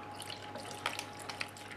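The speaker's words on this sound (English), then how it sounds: "I'm going to slowly mix in 2 3/4 cups or about 650 mils of warm" Warm milk is poured slowly into a whisked custard mixture of eggs and vanilla for a custard tart, giving a steady close liquid trickle with small splashy drips throughout.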